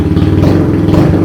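A Kawasaki Z125 motorcycle engine with an upgraded clutch and a stiffer spring, running loud and close with a steady rough idle and a slight lift in revs.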